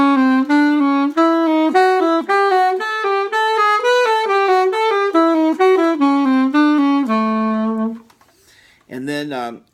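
Trumpet line with only the odd notes of each group tongued and the rest slurred, a steady run of clear, close melodic notes that stops near the end before a short final burst.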